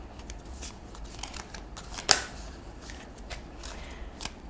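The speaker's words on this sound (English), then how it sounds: "we have 2 cards here falling right off in the first shuffle" Tarot cards being shuffled by hand in a quiet room, a steady run of soft riffling and slapping card sounds with one sharper snap partway through, close and alone without talk.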